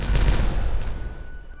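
A demolition explosion in the city-building game Timberborn, a loud booming blast with crackling debris right at the start that then rumbles away over about a second and a half, with no talk.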